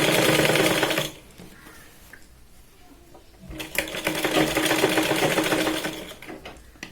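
A sewing machine stitches piping onto the square neckline of a katori blouse, a fast steady whirr that pauses for a couple of seconds, then restarts and runs close and continuous.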